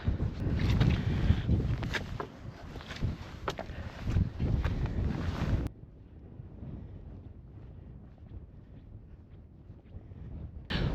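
Blustery wind buffets the microphone on a hike in the Yorkshire Dales, loud rumbling gusts for several seconds that then drop to a quieter, steadier rush.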